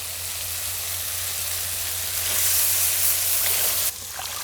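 A spice paste of salt, ginger-garlic paste and turmeric sizzling while it fries, a steady hissing crackle that swells partway through and then drops abruptly near the end.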